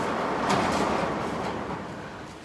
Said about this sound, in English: If you hear a noise, guys, he's just opening the garage or the storage building door.